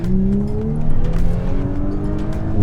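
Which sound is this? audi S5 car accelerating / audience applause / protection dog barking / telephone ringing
audi S5 car accelerating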